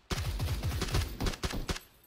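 Rapid automatic gunfire in PlayerUnknown's Battlegrounds, a burst of close, loud shots in quick succession, with a few more separate bangs following.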